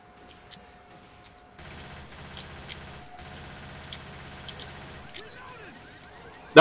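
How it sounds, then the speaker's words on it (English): Rapid popping bursts of fireworks exploding in the Left 4 Dead 2 zombie shooter, a steady crackling barrage over several seconds with a short gap, mid-distance, under quiet game ambience and low talk. "Oh, fireworks."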